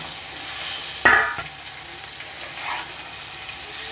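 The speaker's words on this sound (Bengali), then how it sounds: "আলুগুলো দেখুন একটু ভাজা ভাজা হয়ে গেছে এবার আমি সজনা ডাঁটাটাকে দিয়ে দেবো" Potatoes and drumstick stems frying in a pan for a vegetarian dish, a constant close sizzle with a sharp clatter of stirring or an added ingredient near the one-second mark, and no one talking.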